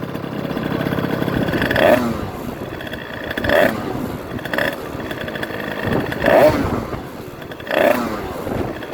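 A cold 2009 Rieju MRT two-stroke motorcycle engine idles with a loud, close, buzzy putter, punctuated by periodic blips every second or two.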